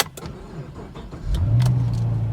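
Car cranking and firing up at a dealer-only auto auction, a few key clicks and rattles, then the engine catches and settles into a loud, deep idle close by.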